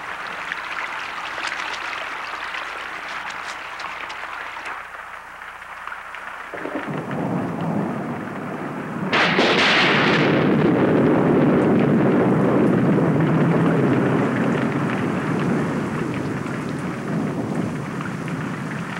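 A forest thunderstorm from a 1991 VHS chimpanzee documentary, with heavy rain hissing steadily, deep thunder rumbling low throughout, and a louder crack and roll of thunder midway as the downpour intensifies.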